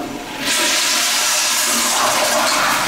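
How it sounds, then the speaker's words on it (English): A Kohler urinal flushes with a loud, steady rush of water that surges in after a brief quiet start and keeps running strongly to the end, close by and alone. "Gonna flush the potty and then we'll go, yeah, it's Kohler."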